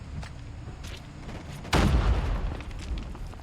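A car blows up in the Call of Duty Mobile battle royale game, a single heavy boom that rolls on with a rumbling tail over steady game background noise.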